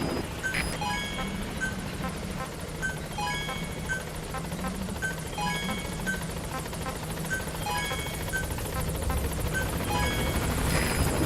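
A B-Quad support helicopter arrives at a landing zone in Metal Gear Solid V: The Phantom Pain, with a steady rotor drone under a repeating series of sharp radio-like blips and clicks.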